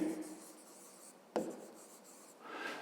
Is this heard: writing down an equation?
yes